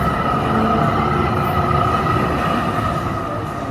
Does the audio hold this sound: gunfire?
no